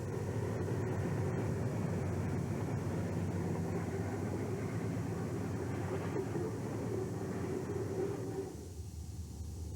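A loaded York Canyon coal train rolls past semaphore signals, a steady, heavy rumble of wheels and cars with faint clicking, holding even for several seconds before dropping away near the end.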